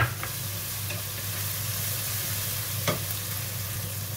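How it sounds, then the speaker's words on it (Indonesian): Dried shrimp stir-fried with shallots and garlic for a water spinach dish, a steady loud sizzle of hot oil with a couple of faint utensil scrapes, no talking. "setelah bawang merah, bawang putih harum, tambahkan udang ebinya ya"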